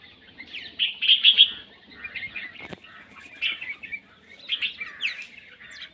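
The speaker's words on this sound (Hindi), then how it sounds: "बहुत सारे, और सारे बुलबुल, मैना, गोरैया" Bulbuls, mynas and sparrows chirp on a rooftop in the early morning while eating small roti pieces, with bursts of close, busy tweets and calls coming in clusters, plus a brief flutter of wings.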